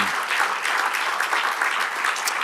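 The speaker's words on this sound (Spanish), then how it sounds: "dale otro aplauso al Señor" Sustained clapping from a church congregation fills the room, a steady dense wash of many hands applauding at close to moderate distance without pause.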